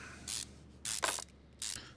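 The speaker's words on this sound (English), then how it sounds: "Spray it." An aerosol can hisses onto a junkyard car engine in three short, close bursts separated by brief pauses, with no voices.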